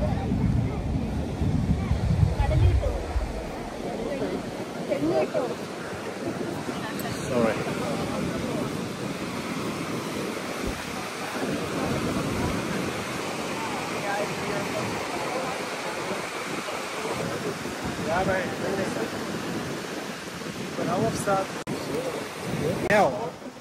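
Wind blows through coconut trees on Coconut Hill in Mirissa, Sri Lanka, as a constant roaring rush with heavy gusts buffeting the microphone, and a voice is heard faintly beneath it.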